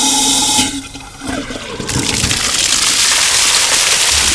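A fire hydrant is opened and flushed, releasing a sudden loud gush of water that builds after a short pause and then holds as a steady, forceful hissing rush close by.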